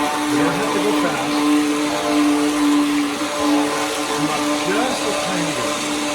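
Immersion blender whirring steadily in a pot of creamy vegan potato soup, a constant motor drone heard up close while people talk over it.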